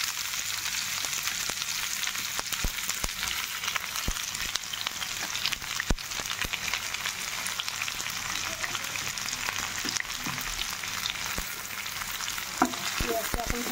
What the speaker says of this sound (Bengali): পেঁয়াজটা এখন ভাজা ভাজা হোক।